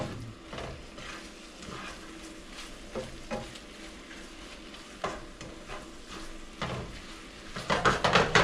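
Hot dogs frying in a pan, steady sizzling with occasional sharp clinks and scrapes of a utensil against the pan, close up, growing louder and busier toward the end, with no talking.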